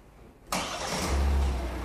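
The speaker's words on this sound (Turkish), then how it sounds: "Çalıştırın arabayı." Hyundai Tucson engine cranks and catches after a half-second of quiet, settling into a steady, close idle with a low rumble that holds to the end; no one speaks.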